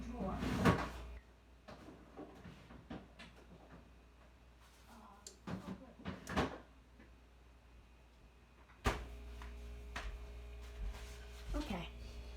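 A kitchen drawer shuts with a sharp knock among a few scattered clatters and bumps while preparing beef blade steak, with a person talking nearby between the sounds.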